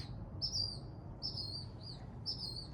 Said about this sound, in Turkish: ay ne kadar güzel bir kuş sesi